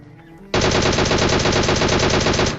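Automatic weapon fire in PUBG Mobile bursts in suddenly after a quiet moment, a fast continuous stream of loud rapid shots that keeps going to the end.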